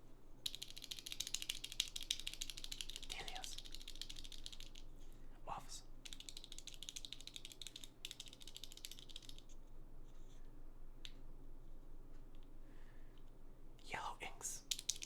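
Bare mechanical keyboard switches, linear mauve type with no keycaps fitted, clack and tap in quick, quiet irregular bursts close by, with faint whispery background and a few louder presses.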